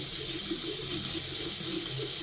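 Hot water runs steadily from a household tap into a sink after air is bled from the hot water system, a continuous close hiss and splash at even loudness with no talk.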